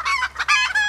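Jersey Giant chickens clucking up close, three quick, loud bursts of squawking calls in about a second, with no voices over them.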